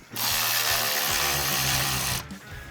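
A power tool tightens 5/16 hose clamps on a cold air intake for a 2015-2017 Mustang V6, one steady whirring burst of about two seconds, loud and close.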